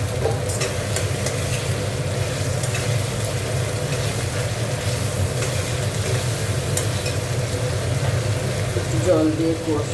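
Potatoes frying in a spice paste for rohu fish curry, a continuous close sizzle with occasional stirring scrapes, steady throughout and slightly busier near the end.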